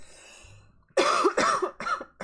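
Several sharp, loud coughs in quick succession after a quiet moment, close to the microphone, with a softer cough trailing at the end.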